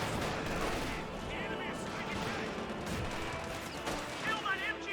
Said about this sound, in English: Contact! MG-42!